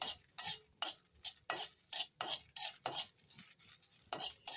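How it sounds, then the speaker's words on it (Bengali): Chillies frying in a wok are stirred briskly, producing a quick run of metallic scrapes and clinks in a steady rhythm, close and fairly quiet, with only a faint sizzle underneath. "আমি একটু প্রথমে লঙ্কাটা ভেজে নিই"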